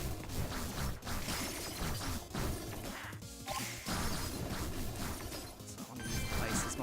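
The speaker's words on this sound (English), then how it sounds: "So I want to use the ice as much as I can to shatter it and hit as many enemies as I can at once." Ice shatters in the video game 20XX as attacks smash into groups of enemies, a dense, loud run of crashing and cracking impacts with whooshes, continuing without pause and with no voices.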